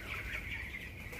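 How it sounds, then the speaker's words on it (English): Small chickens clucking on a rural homestead, faint and close, a soft continuous chatter with no talking. "Look at y'all little chickens right here."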